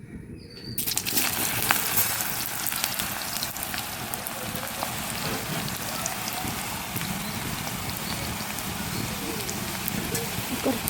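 Jackfruit pieces dropped into hot coconut oil burst into a loud, dense, crackling sizzle that starts abruptly and holds steady, with faint talk in the background.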